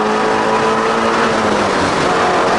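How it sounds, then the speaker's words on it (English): A Shelby GT350R's V8 screams at full throttle through a fast kink at Road America, a loud, steady, sustained roar with a high tonal whine and no talk over it. "Rush the brake, get the nose set, you can come through here, and on the throttle all the way through."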